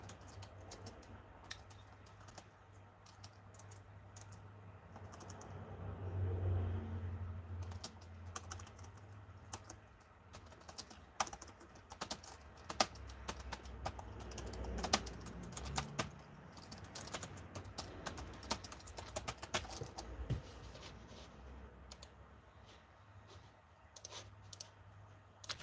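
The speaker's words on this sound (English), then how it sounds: "Let me type it out." Fingers type steadily on a computer keyboard, a close, continuous run of light clicking keystrokes with brief pauses, heard over a low room hum without speech.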